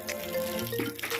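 Water pours and splashes while a small child is rinsed at bath time, a short watery burst with a faint tonal hum underneath and no voices.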